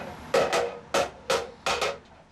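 A wooden mallet strikes a round silver sheet as it is raised into the body of a silver kettle. About seven sharp, close knocks fall in uneven pairs, with brief ringing decays and no talk.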